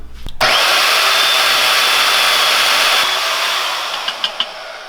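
A power tool cutting metal tubing for a military mini bike build, a loud steady high whine that starts abruptly and holds for several seconds, easing slightly near the end with a few sharp clicks.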